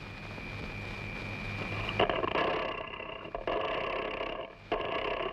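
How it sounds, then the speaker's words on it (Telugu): A boat engine starts up with a jolt and settles into a steady, rumbling drone that cuts out briefly and resumes, fairly close and loud. "ఇంజన్ స్టార్ట్ చేయండి."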